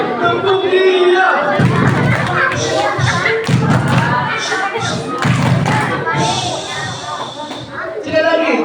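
A crowd at an Isra Miraj celebration event claps loudly in rhythmic bursts with heavy thumping, mixed with lively voices and cheering throughout.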